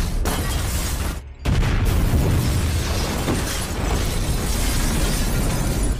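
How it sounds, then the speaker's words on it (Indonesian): A rocket-propelled grenade blasts a house apart in the action film John Wick, a loud sustained roar of explosion and debris rumbling throughout, broken by a brief drop before the blast surges again. "meluncurkan RPG untuk meledakkan rumah John beserta isinya"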